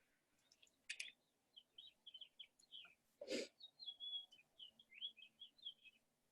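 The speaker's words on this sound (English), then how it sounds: "I literally hear birds singing." Birds chirp and sing in quick repeated phrases in the distance, interrupted midway by a single loud sneeze-like burst.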